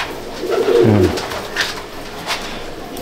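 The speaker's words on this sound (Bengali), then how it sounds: "কালপোড়া কালদমা পায়রা আছে" A Kaldama Madrasi pigeon gives a short, low throaty coo close by, followed by quieter murmurs and faint rustling in an otherwise calm space.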